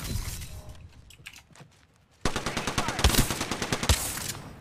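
Mozambique gun firing in a video game, a quiet stretch of faint clicks and movement giving way to a sudden loud, rapid string of close gunshots in a steady rhythm.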